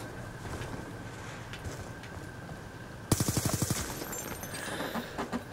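A rapid burst of AK rifle fire in the Black Ops 2 video game, a dozen or so evenly spaced loud shots that break in suddenly after quiet background ambience.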